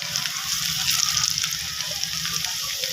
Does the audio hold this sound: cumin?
yes